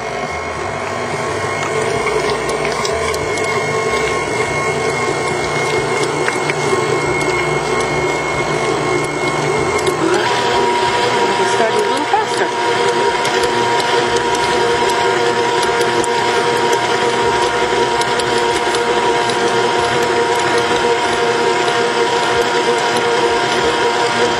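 An electric stand mixer runs steadily on low while creaming snickerdoodle cookie dough, a continuous whirring motor drone with a faint rhythmic beater rattle that holds level throughout, with no talking.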